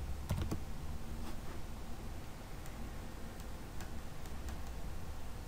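Typing on a computer keyboard while entering words into a spreadsheet, with a quick cluster of close key clicks at the start and then scattered, sparser taps over faint background hiss.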